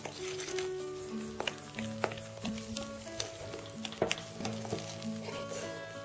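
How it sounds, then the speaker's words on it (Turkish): A spoon stirs dough in a bowl after baking powder and vanilla go in, giving soft scraping and tapping strokes with occasional clinks, close and steady, with no voices. "Kabartma tozunu ve vanilyayı da kattıktan sonra kaşıkla karıştırmaya devam ediyoruz."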